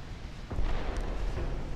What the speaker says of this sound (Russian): Он по нему уже сделал очень много выстрелов.